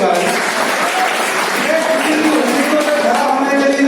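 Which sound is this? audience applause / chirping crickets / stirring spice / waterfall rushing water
audience applause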